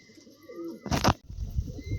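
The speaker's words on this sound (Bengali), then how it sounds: "খুব সুন্দর কোয়ালিটি পায়রা আছে" Pigeons coo softly at close range, with a sudden loud burst of wing flapping or rustle in the middle, then more low murmuring coos.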